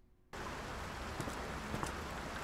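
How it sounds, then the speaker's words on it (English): Steady rain in the horror video game Layers of Fear, a dense hiss of falling drops that starts abruptly and keeps going at an even volume, with no speech. "so it seems to be raining"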